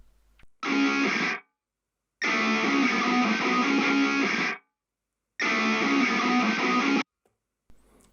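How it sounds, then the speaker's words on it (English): Heavy distorted electric guitar plays in three sustained bursts separated by silence, each a thick, buzzing chord held for a second or more. "This is what the first heavy guitar sounds like."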